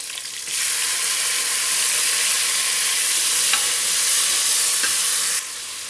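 Shallots and tomatoes fry with curry leaves in a pan, a steady close sizzle that starts abruptly, runs unbroken for about five seconds with a couple of faint utensil ticks, then cuts off.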